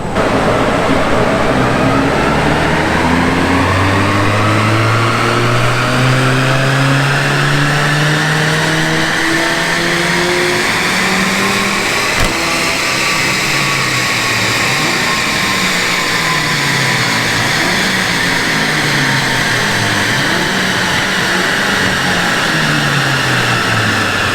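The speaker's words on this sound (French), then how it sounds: "Bon là c'est une A45 qui passe au banc" Mercedes A45 on a dyno revs loudly through climbing gears, its engine note sweeping up repeatedly, then holds a sustained roaring high-rpm run with rising and falling harmonics, alone and close.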